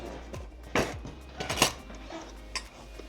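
Metal lids and rings clink as they are set onto hot jars of homemade blackberry jam, a few sharp, close metallic taps and rattles scattered across the moment, with no talking.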